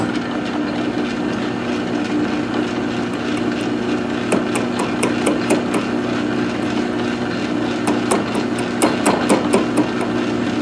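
A South Bend metal lathe cuts a brazed shaft with a high-speed steel tool in an interrupted cut, a steady close machine hum with rapid metallic ticking and tapping that comes and goes over it.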